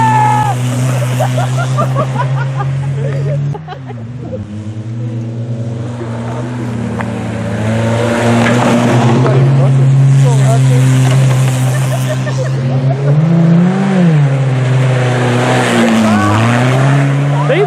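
Race cars roar around a dirt oval track at a rivers race, engines droning and rising in pitch as they pass, continuous and loud with voices talking over the noise.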